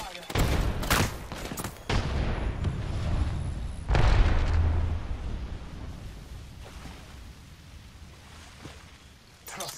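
Bursts of gunfire in Apex Legends, rapid close volleys at the start and a heavy burst around the middle, then trailing off into quieter scattered shots and ambient game noise.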